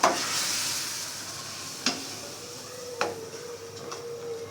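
Besan halwa being stirred in a pan gives a steady soft sizzle, with a few sharp scrapes of the spoon against the pan at intervals.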